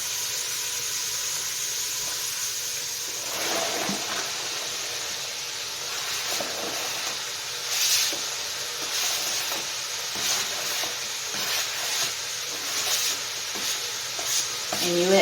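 Diced onion, carrots and celery cooking in a soup pot, a steady soft hiss and sizzle with intermittent stirring scrapes, mostly even and moderately quiet throughout.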